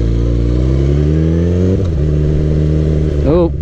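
A car engine revs loudly up close, its pitch climbing steadily, dropping abruptly partway through, then surging up again in a quick final rev.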